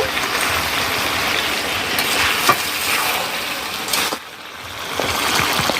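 Village-style country chicken, a tough desi bird, stir-fried in oil for curry, giving a loud steady sizzle with scraping stir strokes and a brief quiet gap before the frying noise swells back.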